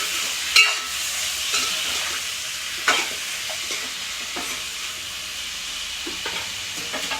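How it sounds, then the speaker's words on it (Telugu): A spoon stirs chicken with turmeric and salt in a hot pan, its scrapes and knocks occasional against a constant close sizzle and hiss, with no speech. "ఇందులోకి 1 టేబుల్ స్పూన్ పసుపు, 1 టేబుల్ స్పూన్ ఉప్పు వేసి ఒకసారి బాగా కలిసేటట్టు కలుపుకొని"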